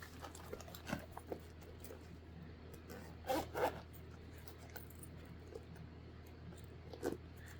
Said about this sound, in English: Let me zip it all up together.